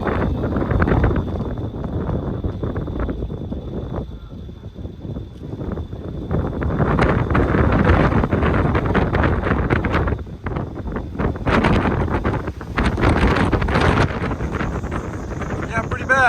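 Strong wind gusting around 20 miles per hour at a wildfire buffets the microphone in rough, roaring gusts that swell and ease over a long stretch, with no voices heard.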